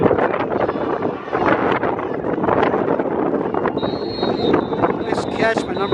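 Strong wind buffets the microphone at an outdoor semi-pro football game, a loud continuous rumbling roar filling the whole clip, with a faint high whistle toward the end.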